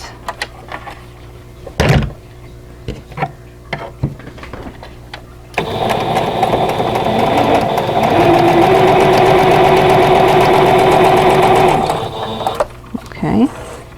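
A sewing machine stitches a seam in a vintage pieced tulip quilt block, running in a steady mechanical whir for several seconds after some handling clicks and rustles, then stopping.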